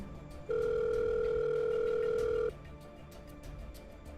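A telephone call rings out as an audio drama effect: one steady electronic ringback tone lasting about two seconds, clear and alone over a quiet background hum.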